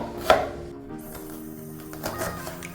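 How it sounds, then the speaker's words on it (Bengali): A knife finely chops a large onion on a board in a quiet room. One sharp stroke stands out early, followed by a faster run of lighter cuts later. "তো আমি এই বড় সাইজের পেঁয়াজটাকে একদম কুচি কুচি করে কাটবো।"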